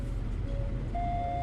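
A new Kia Niro's rear parking sensor sounds a steady electronic tone that shifts higher partway through, over a low idling engine rumble.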